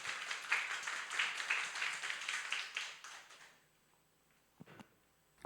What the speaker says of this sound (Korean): 따뜻한 박수로 맞이하겠습니다